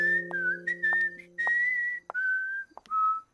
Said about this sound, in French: Tu ne fais que siffloter.